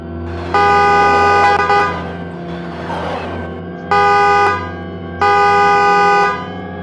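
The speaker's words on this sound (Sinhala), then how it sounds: "ඔයගොල්ලන්ට මම හෝන් ගන්න සද්ද එනවද?" A Tesla Roadster's horn honks three times close and loud, the first blast longest and two shorter toots following after brief pauses, with no speech.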